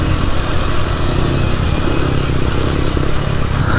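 Motorcycle engine running steadily while riding on a ride out to Barangay Cabayo, a dense continuous drone with mechanical clatter that stays loud and close throughout with no talking.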